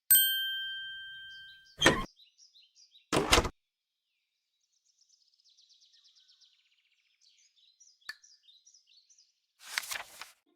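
A storybook sound effect of a cottage door opened by pulling a string: two sharp wooden clunks and a later rattle, with soft birdsong chirping in the quiet between and no talking.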